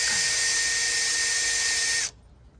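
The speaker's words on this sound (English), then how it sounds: "Let's come in with the drill bit." A power drill spins a 2mm bit into a billet sway bar clamp on a Toyota KDSS front sway bar, one loud steady high-pitched whine for about two seconds that cuts off abruptly.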